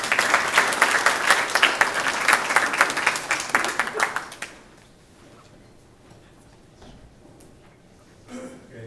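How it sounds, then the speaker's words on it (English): Listeners at a talk on police militarization applaud with brisk, close clapping for about four seconds before it cuts off into near silence and a faint stir at the end. "give yourselves a round of applause"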